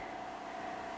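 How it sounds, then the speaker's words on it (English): A faint, steady generator hum drones on without change, distant and low, with no voices. "And that is the sound of a generator running"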